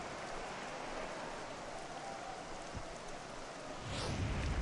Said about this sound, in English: You just sensed it was coming with the heaviness of the rain